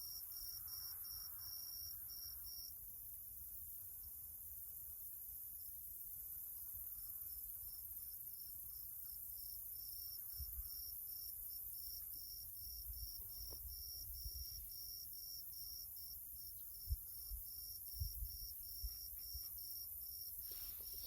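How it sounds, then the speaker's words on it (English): Grasshoppers chirp outdoors at a Texas fishing spot on a warm morning, a steady, loud, continuous high buzzing with a few faint thumps and knocks near the end and no talk over it. "You can't hear me over the grasshoppers."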